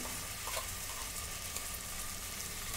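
Ginger-garlic paste frying in a pan with fried onions, a steady hiss and sizzle with faint crackles, moderately loud and close, no voices.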